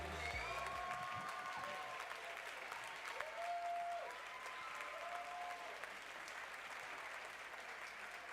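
Crowd applause for award winners at the Camp Hollywood 2022 dance event, steady clapping heard faintly under playing music with a sung melody, continuing without pause.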